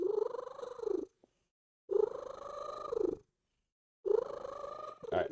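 Close, soft purring from a domestic cat: three long, rumbling breath cycles with brief quiet gaps between them and a small rustle at the end.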